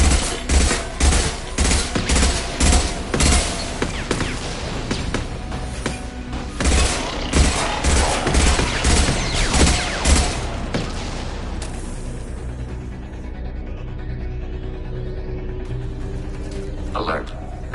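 Rapid bursts of automatic gunfire from a hacked turret in Mass Effect 2 rattle loudly and closely in repeated volleys, then fade into a low mechanical hum with scattered electronic tones, with a synthetic voice speaking over parts.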